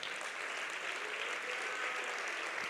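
Steady applause from a church congregation for a preacher, a dense sustained clapping that fills the whole stretch without a break.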